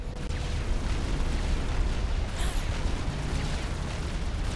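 An experimental unit in the Supreme Commander video game fires a laser at an enemy, producing a dense, continuous roar of crackling energy and explosive noise that stays loud and steady throughout.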